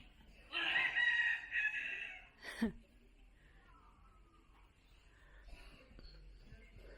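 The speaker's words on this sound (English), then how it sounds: "Geese and chickens." A rooster crows loudly once, followed by a short squawk, then quiet clucking and faint fowl noises from chickens and geese in the background, near Kampot, Cambodia.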